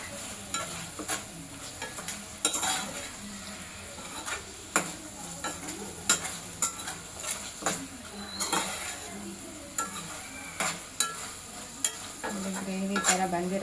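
A spoon stirs egg gravy in a metal pan, scraping and clinking in irregular taps over a soft, steady sizzle, close and fairly quiet.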